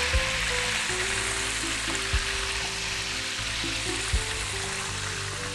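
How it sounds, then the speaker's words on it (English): Apple juice hisses in a hot pan, with a spatula scraping up the browned bits from the bottom. The steady, close sizzle runs throughout, with a few soft knocks of the spatula. "Now I'm going to add a 1/2 cup of apple juice to our pan. I'm going to use a spatula to deglaze this."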